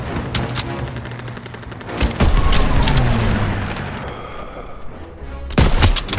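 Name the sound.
grenade explosion and gunfire in video game Call of Duty WW2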